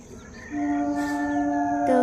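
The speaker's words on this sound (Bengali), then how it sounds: "দেখো ট্রেন কিন্তু আপ ডাউন দুটোই যাচ্ছে একসাথে, সেই জন্য একসাথে আওয়াজ হচ্ছে" Horn from trains passing on both the up and down lines at once in foggy countryside: a loud, steady tonal blast starts about half a second in and holds to the end, with a brief extra burst near the close.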